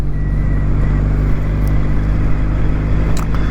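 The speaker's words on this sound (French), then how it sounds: "Je sais pas si vous entendez la sonorité de la moto, mais c'est super agréable." A 2023 Kawasaki W800 motorcycle engine runs steadily while riding at around 2000 rpm in third gear, a loud, continuous low rumble with a constant hum throughout.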